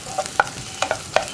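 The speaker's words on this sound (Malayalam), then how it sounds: "ഈ ജിഞ്ചർ ഗാർലിക് പേസ്റ്റിൻ്റെ റോ ടേസ്റ്റ് ഒന്ന് മാറി വരുന്നത് വരെ ഒന്നുകൂടി ഒന്ന് ഇളക്കി കൊടുക്കുക" A spoon stirs ginger garlic paste in a frying pan while making raw plantain thoran, giving about six short, distinct scraping strokes over a soft sizzle, close and fairly quiet.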